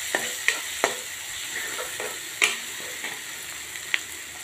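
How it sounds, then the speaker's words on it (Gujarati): Ground spices for mung masala rice, including chilli, Kashmiri chilli and coriander-cumin powder, roast in a pan with a steady soft sizzle, broken by several sharp clicks of a spoon stirring against the pan. "મિત્રો, તમે જોઈ શકો છો સરસ મસાલા આપણા શેકાય છે."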